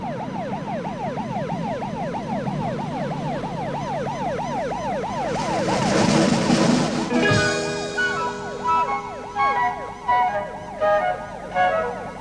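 An ambulance siren wails in a fast, rising-and-falling cycle, then shifts to a slower two-tone pattern as a vehicle approaches and passes close by.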